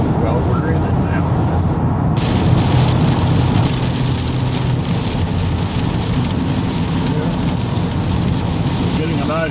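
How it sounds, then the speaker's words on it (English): Steady heavy rain drums on a moving car on a road trip, a dense continuous patter over the low rumble of the road throughout. Someone speaks briefly. "Getting a nice rain along here."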